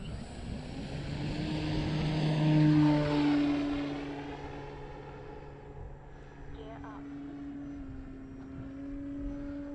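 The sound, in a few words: RC Carbon Z T28 warbird airplane flying in to land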